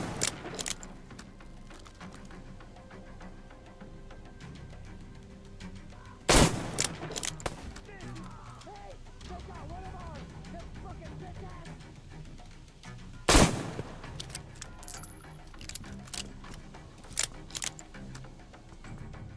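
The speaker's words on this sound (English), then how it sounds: "I'm gonna shoot the fence." Gunfire shooting at a fence in the video game Metro Exodus: two sharp, loud shots several seconds apart, each trailing off with rattling echoes, set against quieter ambient clatter and a few smaller cracks later on.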